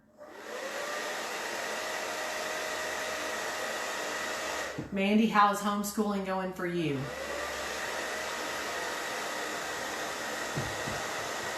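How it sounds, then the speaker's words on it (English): A hair dryer blows with a steady, loud whir, briefly paused while someone speaks, then running again until the end. "Bear with the blow dryer."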